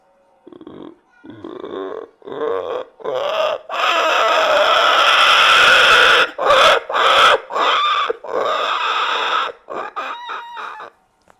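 A voice imitates a pig with loud, strained squeals and grunts, delivered as a run of close, choppy bursts with short breaks between them.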